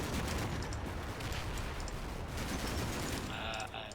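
A 50 cal machine gun firing in the video game Combat Mission, with dense rapid bursts of gunfire rattling continuously at high volume across the whole span.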